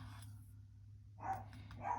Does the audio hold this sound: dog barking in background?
yes